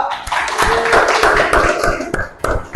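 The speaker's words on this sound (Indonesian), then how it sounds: "Beri tepuk tangan dulu untuk kelompok 2." A classroom group of students applauds a presenting group, dense scattered clapping with individual sharp claps filling nearly three seconds at steady moderate loudness.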